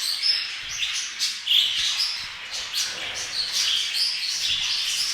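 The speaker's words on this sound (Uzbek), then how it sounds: "Mana qush ovozi" Many small birds chirp and tweet continuously inside an indoor bird-breeding house, a dense overlapping chorus of high, bright calls with no talking.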